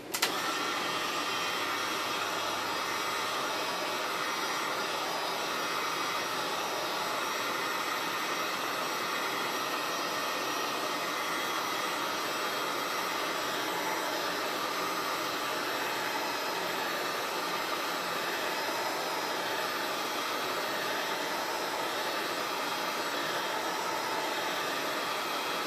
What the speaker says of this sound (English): I just use a heat gun